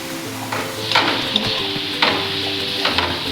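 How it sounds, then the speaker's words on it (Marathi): Coconut karanji filling stirred in ghee in a pan, with cardamom powder and roasted poppy seeds mixed in: a steady soft sizzle under repeated scraping strokes of a spoon, close and fairly quiet, no talking. "आता हे सर्व आपण व्यवस्थित असे मिक्स करून घेऊयात."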